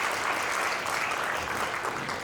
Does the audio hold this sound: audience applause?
yes